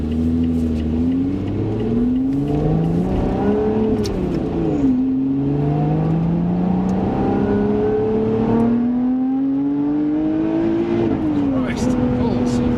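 Lotus Evora Sport 410 engine pulls hard under acceleration, its rising note climbing through several gears with brief dips at each shift, heard from inside the car under steady cabin noise.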